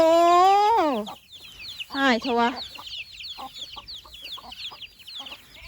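Chickens on a goat and sheep farm clucking and a rooster-like call nearby, with a brief spoken word in Thai mixed in among the bird sounds.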